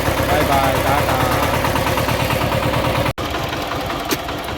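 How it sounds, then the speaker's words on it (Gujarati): A farm tractor engine runs close by at a steady idle, its thudding, knocking beat even and continuous before a brief cut and resumption. "ટ્રેક્ટર હાલી રહ્યું છે, ઢાક ઢાક ઢાક કરતું."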